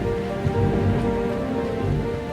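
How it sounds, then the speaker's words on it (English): Steady rain falling on a surface during a thunderstorm at a castle at night, a continuous close hiss of drops with low rumbling underneath, no voices. "Lightning was striking and the sound of the thunder was echoing in the castle."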